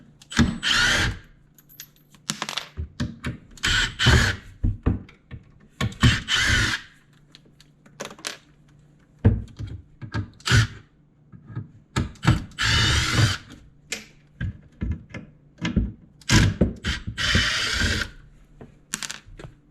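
Cordless power drill backing out screws during a kitchen dishwasher installation, a string of short whirring bursts and stops with trigger pulses, close and fairly loud, with no speech.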